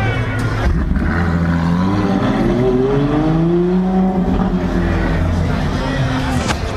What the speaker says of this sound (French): dès qu'il est passé, le moteur s'est mis en route thermique